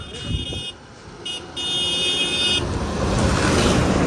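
A Maharashtra state transport bus from Mumbai drives past on a village road in Konkan. Its engine rumble swells steadily toward the end, with loud, bright horn-like tones sounding twice early on.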